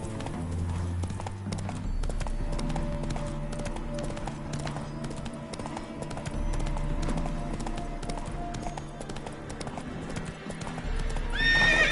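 Horse hooves clip-clop at a gallop in The Witcher 3, with a whinny late on and a player talking briefly over the game sound.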